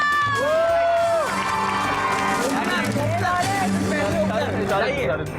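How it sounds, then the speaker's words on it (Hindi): A television studio audience cheers and whoops for Danish on an entertainment show, loud and continuous, with shouting voices and a brief musical swell mixed in under the crowd noise. "चलो दानिश के लिए बहुत सारी तालियां।"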